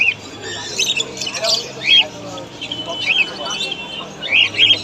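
Exotic pet birds such as cockatiels and finches squawk and chirp in repeated sharp bursts at a busy pet market in Sherampore, loud and close, with a low murmur of voices running underneath.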